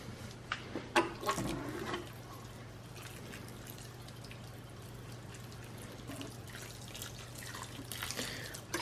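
A small watering can pours water onto freshly covered potted soil indoors: faint trickling and dripping with a few louder splashes early on, then a quiet steady pour over a low hum, no talking.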